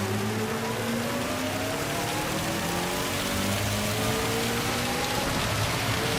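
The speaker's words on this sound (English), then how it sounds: "I'm too timid driving in the rain." Rain pours during a race in the Gran Turismo 7 driving game, a steady broadband hiss of falling water with a low droning car engine tone running beneath it.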